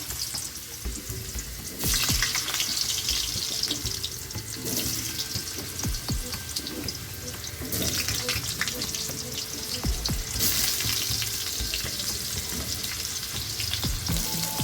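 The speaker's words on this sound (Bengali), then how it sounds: "এবার এই আলুটাকে কিন্তু আমি একদম লাল লাল করে ভেজে নেব" Potatoes frying in hot oil for a vegetarian potato and paneer curry, a steady close sizzle with bursts of crackle and occasional stirring clinks, no talk.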